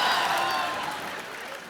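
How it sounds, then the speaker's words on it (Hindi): A studio audience at a Hindi comedy talk show claps loudly for a film cast, a dense burst of applause that fades gradually over its short span. "जोरदार तालियां एक बार काबिल की पूरी टीम के लिए"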